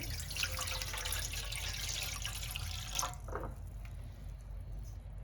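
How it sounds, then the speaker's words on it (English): Water pours steadily into a pan of pork ribs for a few seconds before stopping, leaving a faint background hum. "Here also you can add some water."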